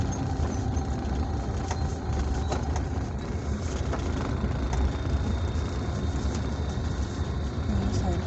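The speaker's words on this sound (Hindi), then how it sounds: "गाड़ी से तो बहुत आवाज़ आ रही है।" A noisy car, its engine and road rumble filling the cabin as a steady, loud low drone that holds without break from start to finish.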